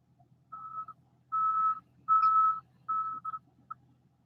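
A series of high electronic beeps, a truck's reversing alarm, sounds in uneven pulses over a low background hum, moderately loud and nearby.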